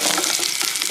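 Mustard seeds and dried red chilies sizzle and crackle steadily in hot coconut oil for a Kerala erissery, a loud, continuous close-up frying hiss with no voices.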